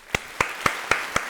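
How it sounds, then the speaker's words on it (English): A round of applause in the form of five sharp, evenly spaced claps, crisp and fairly close, with no voices over them. "Round of applause."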